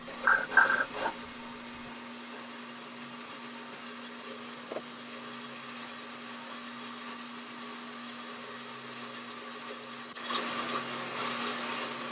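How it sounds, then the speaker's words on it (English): A bandsaw cuts through clamped metal parts in a workshop, giving a steady low motor hum with a faint grinding whine, a few clanks at the start and the cut growing louder near the end. "get them clamped up in the bandsaw, get them lined up, and go take a break while the bandsaw does its thing"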